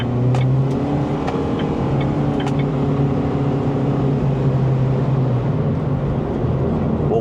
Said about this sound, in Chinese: 现在启动着的是 S Flow， 也就是那个比较小声的。